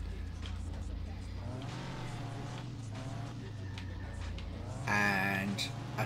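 A race car's engine drones steadily on a track in the PA: Chicane racing game, with tires squealing and skidding as it slides through corners, a sharper screech near the end, under a speaker's voice.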